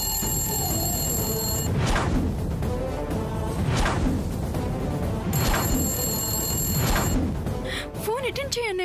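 A telephone rings in a Telugu TV serial scene, repeated electronic ring bursts at a steady rhythm, loud and close, with a voice speaking under the rings.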